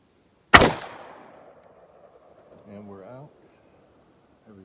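A single sharp .223 rifle shot firing 77 grain factory-second ammunition outdoors in cold weather, loud and close with a decaying tail, followed about two seconds later by a brief spoken voice.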